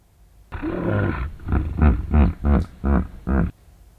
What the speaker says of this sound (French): Ce son est un cri du répertoire vocal de l'hippopotame.